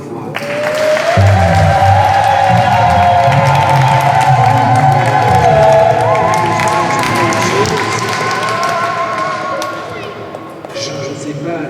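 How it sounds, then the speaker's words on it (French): Guests at a religious wedding break into loud, close applause with some cheering for the couple, swelling and holding for several seconds before thinning out, with voices mixed in. "j'ai envie de vous dire, de les applaudir encore une fois."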